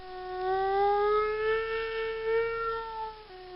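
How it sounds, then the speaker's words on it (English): A tornado warning siren, a single sustained tone that rises and then wavers slightly before dropping off, steady and fairly loud, with no talking. "But also tornado sirens."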